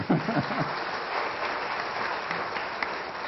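Studio audience applause on a French TV letters-and-numbers game show, a steady broad clatter of many hands clapping close up, holding evenly for a few seconds with no voices over it.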